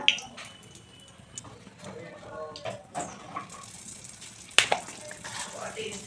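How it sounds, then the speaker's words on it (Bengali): Bay leaves and two dried red chillies crackle in hot oil for Bengali khichuri, a bright sizzling hiss with small pops and a sudden louder burst midway, a voice speaking faintly underneath. "তেল গরম হয়ে গেছে, দিয়ে দিচ্ছি তেজপাতা, দিয়ে দিচ্ছি দুটো শুকনো লঙ্কা"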